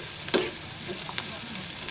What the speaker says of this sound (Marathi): कांदा भाजतो आहे, थोडा भाजू द्या.